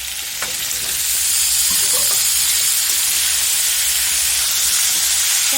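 Local chicken pieces and cut potatoes fry in a hot pan, making a loud, steady sizzle and hiss that builds in the first second and then holds, close up with no talking.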